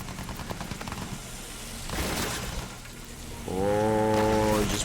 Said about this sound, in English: Who's shooting at me like that?